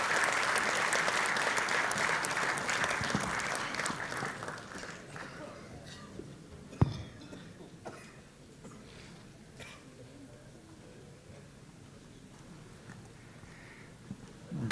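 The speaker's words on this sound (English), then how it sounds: "Let's give them a round of applause." An audience at an academic conference award ceremony gives a round of applause. Loud, dense clapping opens the stretch and fades away over several seconds, leaving a quiet room with a few stray claps and small noises.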